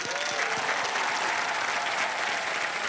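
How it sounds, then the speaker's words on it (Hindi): A game-show studio audience on Wheel of Fortune applauds a prize-winning contestant, a steady, dense wash of clapping at even loudness throughout, with no one speaking over it. "जोरदार तालियां इनके लिए"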